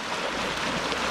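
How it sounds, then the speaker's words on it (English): A super fast creek near a campsite, rushing continuously with dense, loud broadband splashing and no pauses. "It's a super fast moving creek."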